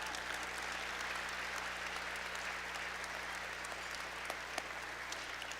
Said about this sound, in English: How about a big round of applause for our past inductees?